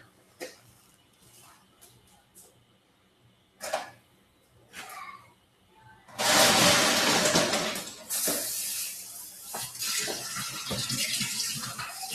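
A tap runs water for rinsing. The water starts partway through and stays as a close, steady rush, with a few coughs and throat-clearing sounds earlier.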